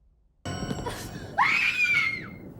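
A woman lets out a loud, shrill scream that rises sharply and holds for about a second before trailing off, close and alone over a brief lower cry before it, in an apartment building hallway.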